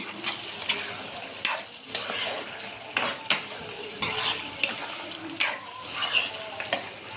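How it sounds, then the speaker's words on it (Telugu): Pulao mixture stirred in a pan with turmeric, a utensil scraping and clinking against the metal in repeated strokes over a soft, steady sizzle, close and fairly loud, with no talking. "బాగా కలుపుకొని"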